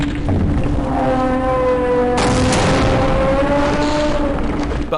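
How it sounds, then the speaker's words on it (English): The Gonarch boss exploding in Half-Life, a loud sustained roar of blast noise with tonal wailing layers, surging sharply about halfway through and holding full and dense to the end. "which makes the Gonarch explode"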